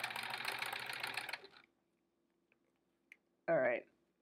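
Sewing machine stitching a scant quarter-inch quilt seam, a close, steady mechanical whir for over a second that stops, followed by quiet and a short burst of voice.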